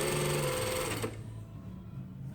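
A sewing machine runs a pin stitch along the overlocked edge of an unlined jacket vent, giving a steady, loud, close mechanical whir that stops abruptly partway through, leaving a low hum.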